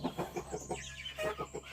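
Rhode Island Red or cinnamon queen hens clucking close by in a rapid, rhythmic series of short calls, with no talking.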